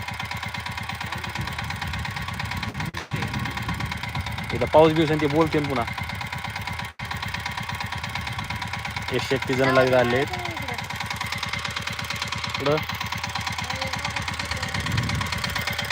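A tractor engine idles with a low, steady chugging pulse behind someone talking close by for most of the stretch.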